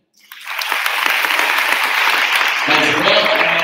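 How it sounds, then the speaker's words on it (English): Applause at a Catholic high school gospel choir concert starts from silence and swells quickly into loud, sustained clapping, with murmuring voices joining near the end. "Please give them a round of applause."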